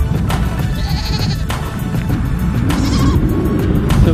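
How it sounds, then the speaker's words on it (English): Goats bleating on a hillside in Morocco, several loud overlapping calls over a low rumble of wind or engine, with no talking. "Look at all those goats up there."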